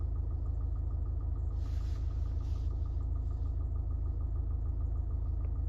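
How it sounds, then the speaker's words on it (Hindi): From inside the cabin of a 2025 Mahindra Thar Roxx MX1 base model, the engine idles with a steady low hum and rumble, constant and moderately loud, with no talking. "अभी गाड़ी को मैंने चालू किया है और चालू करने के बाद इनर नॉइज़ कुछ ऐसा आता है।"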